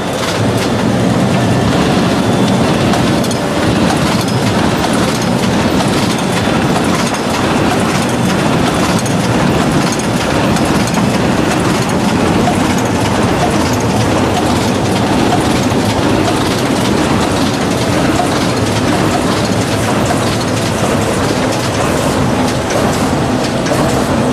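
A Horizon StitchLiner 5500 finishing device turns pre-collated digital output into 16-page booklets at a rated 3,700 books per hour, its dense mechanical clatter running steady and loud throughout with no voices.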